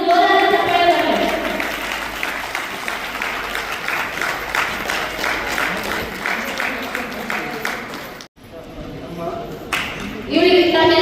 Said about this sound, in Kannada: ಒಂದು ಜೋರಾದ ಚಪ್ಪಾಳೆ ಬರಲಿ